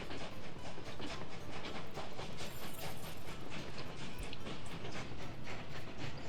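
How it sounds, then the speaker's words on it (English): Locomotives running on a rail line in the video game Workers and Resources give a steady, loud rumble with regular rhythmic clacking pulses and a broad hissing wash throughout, no voices over it. "Proper serious locomotives on the go now."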